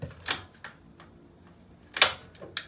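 A torque wrench clicks while tightening Harley Davidson front motor mount bolts to 49 newton meters, giving a few sharp, isolated metallic clicks spread apart, with faint handling noise between them.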